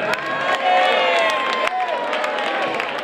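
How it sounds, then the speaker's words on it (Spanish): A crowd cheers and claps together, a loud sustained roar of applause with whistles and shouts rising above it, at a charanga band gathering. "Quería dar un gran aplauso"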